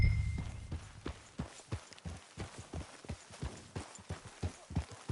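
Horse hooves clip-clop at a steady trotting rhythm in Red Dead Redemption 2, a long even series of close, moderately loud hoofbeats with little else over them.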